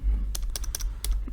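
Typing on a computer keyboard close by, a quick irregular burst of about six sharp key clicks over a faint low room hum, with no talking.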